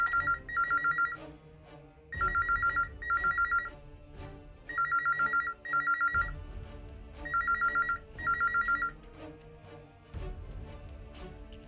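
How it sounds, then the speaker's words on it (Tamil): A telephone rings repeatedly and goes unanswered, its electronic double-burst trill repeating in regular pairs with pauses between, over a soft, low background bed. "ஃபோன் ரொம்ப நேரமா ரிங் ஆயிட்டே இருக்கே, யாரும் எடுக்கவே இல்ல"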